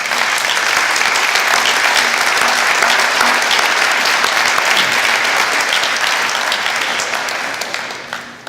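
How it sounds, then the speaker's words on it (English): A room full of people at a public service appreciation event applauds loudly and continuously, then tapers off at the end. "Please join me in giving them a round of applause."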